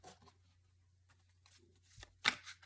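A deck of cards for a card reading is shuffled nearby, a few soft riffles and taps building to one crisp burst near the end, quiet over a low steady hum with no speech.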